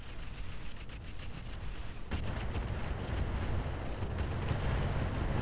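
Missile barrage impacts in the Roguetech mod of BattleTech, a sustained rumbling wash of distant explosions that swells sharply about two seconds in, then keeps rolling heavily to the end.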